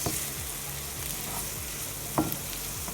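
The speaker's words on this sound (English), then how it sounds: "Stir it up with a pinch of salt to activate everything" Leftover rice with a pinch of salt stirred in a hot pan, with steady sizzling and frying and repeated scraping strokes of a utensil, close and clear, one sharper clack partway through.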